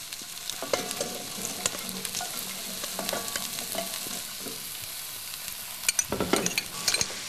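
A steady sizzle of vegetables sautéing in hot oil and meat juices in a pan, with scraping and stirring clatters, a few sharper pops and knocks near the end.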